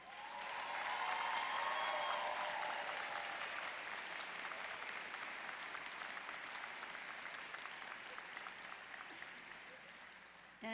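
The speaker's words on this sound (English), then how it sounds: "let's begin our celebration with a round of applause for our graduating students" Applause for graduating students at a 2013 College of Social Work commencement ceremony, a large crowd clapping steadily and fairly distantly, swelling early and slowly tapering over about ten seconds.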